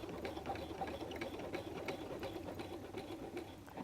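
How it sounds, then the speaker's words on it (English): A sewing machine runs a straight stitch across a zigzag line on a messenger bag, a continuous rapid mechanical whir at moderate volume with no pauses. "stitch one more time across your zigzag line with the straight stitch."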